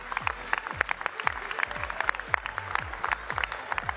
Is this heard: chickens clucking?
no